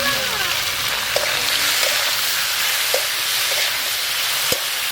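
Potato and bitter gourd pieces fry in a pan with salt and turmeric, making a loud, continuous sizzle broken by a few sharp clinks and scrapes of stirring.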